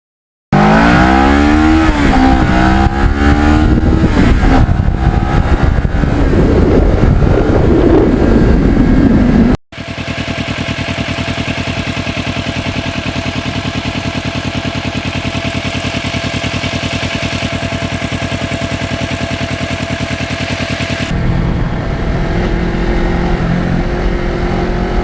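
A 2009 Kawasaki Ninja 650R accelerates up through the gears on back roads, engine pitch rising and dropping with each shift, then settling into a steady cruising drone under heavy wind noise.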